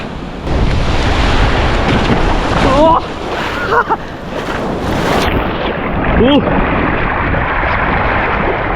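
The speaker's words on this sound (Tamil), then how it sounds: "தண்ணியும் சூப்பராக இருக்குது, அலையும் வேறு லெவலில் இருக்குது" Steady roar of ocean surf at a Chennai beach with wind buffeting the microphone, while people talk briefly over the crashing waves.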